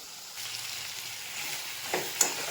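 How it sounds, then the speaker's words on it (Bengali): Winter vegetable chorchori with sugar being stirred in a hot pan, a steady soft sizzle with faint scraping, and a couple of sharper clinks of the spoon near the end. "চিনি দিয়ে নেড়ে নিচ্ছি"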